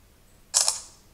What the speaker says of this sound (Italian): Vedete, questo è il rumore dell'acquisizione della schermata.